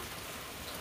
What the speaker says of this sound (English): And it's pouring down rain, as you can hear.